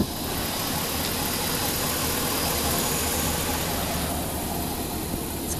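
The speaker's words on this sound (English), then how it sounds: "It is a 2011 Chevy 3500." A 2011 Chevy 3500 truck fitted with a winch and brush guard sits idling, its engine a steady, fairly close rumble with a constant broadband hum and no talking over it.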